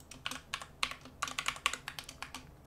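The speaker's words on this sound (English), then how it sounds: "now you can type in any password of your choice" Password being typed on a computer keyboard at a sign-in screen, a run of quick, uneven keystrokes, close and fairly quiet, with no talking.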